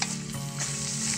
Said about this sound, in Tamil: இப்போ இந்த எண்ணெயிலேயே வந்து இது ஒரு 5 நிமிஷம் குக் ஆகட்டும்.